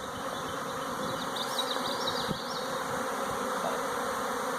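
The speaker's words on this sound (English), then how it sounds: "Be one with the bees." A dense, steady buzzing of a bee swarm fills the air continuously, close and loud, with faint higher whines drifting through.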